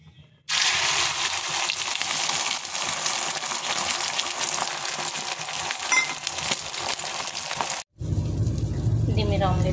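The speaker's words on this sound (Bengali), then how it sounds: "4টে ডিমকে একসঙ্গেই ভেজে নেব" Four eggs frying together in a pan give a loud, continuous crackling sizzle that starts abruptly, runs for about seven seconds, cuts off sharply, then returns more quietly under a low hum.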